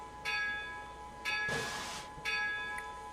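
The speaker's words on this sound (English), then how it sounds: "Back to the bell again." A locomotive bell rings in the Railworks train simulator game, three to four evenly spaced metallic clangs with bright ringing overtones, heard alone over a steady low hiss.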